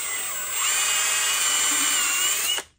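A high-pitched power tool spins up and whines steadily while smoothing the inside of an AR-15 buffer tube, then cuts off abruptly after a couple of seconds.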